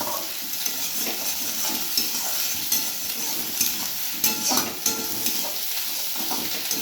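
Onion and egg frying with salt in a pan, a steady close sizzle with scraping stirs and occasional clinks of utensil against the pan, no talking.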